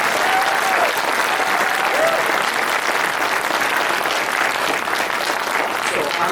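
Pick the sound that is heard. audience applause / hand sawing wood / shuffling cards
audience applause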